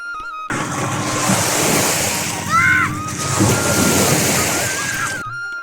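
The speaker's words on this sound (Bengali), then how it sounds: "ঢেউ এসে আশ্রে পড়ছে তীরে" Waves washing onto the sandy shore of a haor lake where fishing boats are lined up, a steady, loud rush of surging and sloshing water close by, with a brief voice-like tone partway through.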